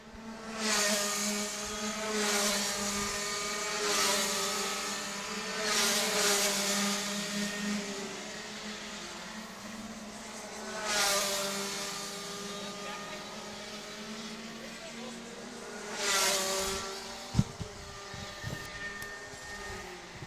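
Rotax Max racing karts at a national karting championship race howl past the finish line in several separate loud bursts, each building and fading as a kart passes, with engine drone between them.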